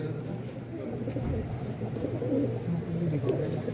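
Pigeons of a fine flying breed coo in a low, continuous murmur close by, layered over steady background noise and occasional voices.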